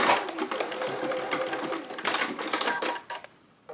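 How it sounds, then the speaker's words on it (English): A sewing machine stitches a fabric threadcatcher, its steady motor whir running in close, loud bursts with brief pauses and back-stitching, then stopping near the end. "And now I'm going to sew this one."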